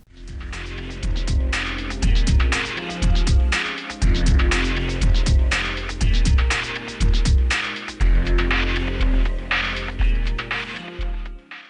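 Save-A-Blade razor blade sharpener motor running close up, a loud buzzing hum in repeated bursts with rising whine sweeps and brief stops between them.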